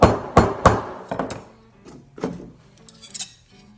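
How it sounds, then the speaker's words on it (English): The rubber side of a fret hammer taps fret wire into a guitar fretboard in a custom guitar workshop. About eight sharp, close knocks come in an uneven rhythm, loud at first and then lighter, with no talk. "Take your fret hammer. I like to use the rubber side, and you start on one end, get it started, and then tap it all the way across."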